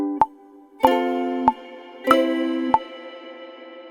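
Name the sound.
studio reverb effect on ukulele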